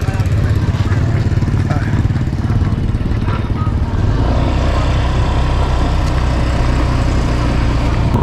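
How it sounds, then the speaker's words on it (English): A motorbike engine drones continuously at close range with strong wind rush, as if riding along, its pitch shifting slightly midway. "we are on the way home in the motorbike"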